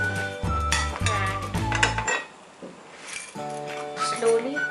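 Metal tongs clink and tap on a tawa while naan cooks, a run of bright metallic pings and clatters close by, then a short quiet gap before more ringing clinks.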